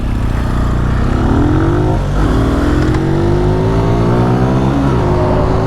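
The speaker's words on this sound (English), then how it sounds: "I gotta hear a bike." A 2021 Benelli TNT 135 motorcycle engine runs and revs steadily close by, loud, its pitch climbing in smooth waves as it accelerates, with no talking.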